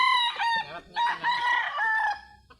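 A rooster crows loudly and close by, one long drawn-out cock-a-doodle-doo with a ragged, wavering tone that trails off.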